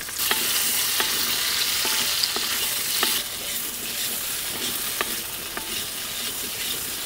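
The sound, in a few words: baby potatoes frying and being stirred in a pan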